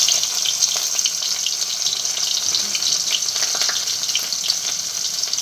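Garlic and onion frying in hot oil: a dense, bright, continuous sizzle, close and even throughout, with no voices.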